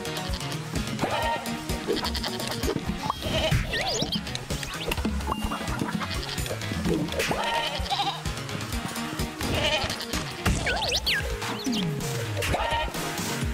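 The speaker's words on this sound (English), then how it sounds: "I also threw a billy goat into the main moving pen so he stops fucking with me." A billy goat bleats repeatedly in the farm-moving video game Moving Out 2, over a dense, continuous bed of game music and other animal calls.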